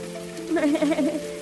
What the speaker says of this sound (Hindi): जोरों की बारिश शुरू हो जाती है।